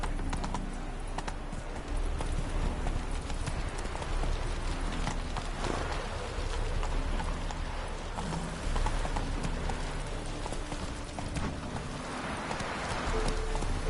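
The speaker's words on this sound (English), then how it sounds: "Whoa there, Roach." In The Witcher 3, a horse gallops with a fast, continuous drum of hoofbeats under steady game ambience. It sounds moderately close, and no one talks.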